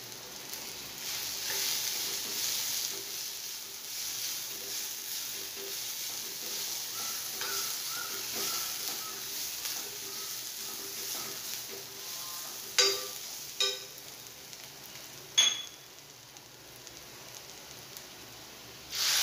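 Chilli, coriander and turmeric powders fry in a pan for a spicy bhindi aloo curry with a soft, steady sizzle, then a few sharp utensil clatters near the end.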